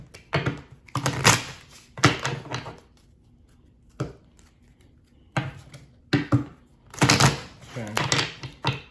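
Tarot cards are shuffled in rapid bursts of crisp riffling and snapping, several separate rounds close up, with quiet pauses between them.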